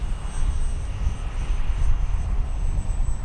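Kavan Bristell B-23 RC model airplane flying on a windy day, a continuous engine drone with wind rumble, steady and fairly loud throughout with no talk.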